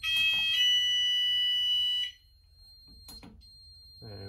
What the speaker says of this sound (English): I won't be letting the sounders go off for too long in this one